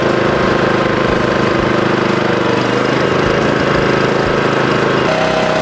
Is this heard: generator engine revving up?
yes